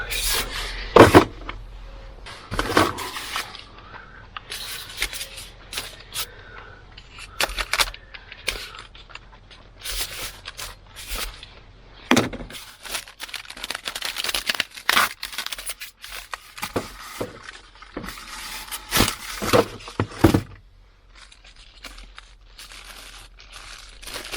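A speaker is being wrapped with adhesive tape, giving irregular crackling, ripping and sticky peeling sounds with sharp clicks and knocks, close up and intermittent over about twenty seconds.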